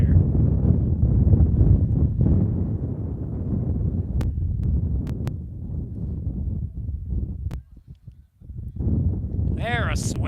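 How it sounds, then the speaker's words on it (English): Gusty wind buffets the microphone at an outdoor high school varsity baseball game, a steady low rumble with a brief lull, under faint crowd noise and a commentator's voice. "The wind gusts really picking up there."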